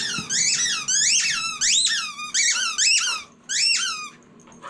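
A dog's rubber squeak toy squeaks in repeated rapid bursts of shrill, rising-falling squeals, loud and close, with short pauses between the runs of squeaks.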